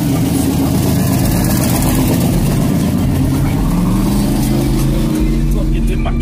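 A Chevrolet SS Monte Carlo, a naturally aspirated G-body, idles loudly before a street race with a deep, lumpy engine rumble and occasional light revs, close up, with people talking over it.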